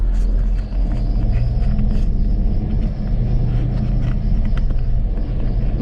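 Cabin rumble of an LS-swapped GMC K2500 truck driving, a loud, steady low engine and road drone from inside with no talking.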